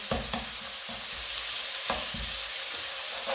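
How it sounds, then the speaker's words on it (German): Meat sizzles loudly in a pan with pepper paste for sulu köfte meatballs, a constant fry under repeated scraping stirs and clacks of a spoon against the pan. "Der wird dann hier richtig mit angebraten."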